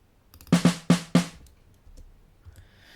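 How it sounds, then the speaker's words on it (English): An unprocessed acoustic snare drum sample played in Logic Pro: four sharp, close hits in a quick uneven pattern, each with a bright crack and short ringing tail, then near silence. "Just a pretty straightforward kind of snare."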